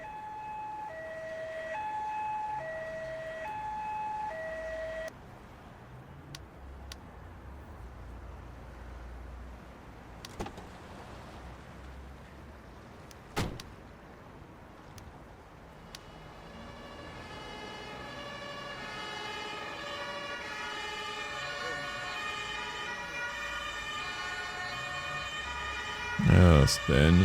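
A fire engine siren wails and grows steadily louder as the truck arrives at a car crash scene in Emergency 5, under calm talk and scattered background clicks.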